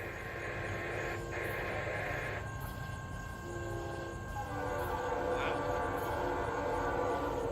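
A CSX freight train, Q038, passes with a Leslie air horn sounding in long sustained blasts, the rumble of the rail cars running underneath throughout.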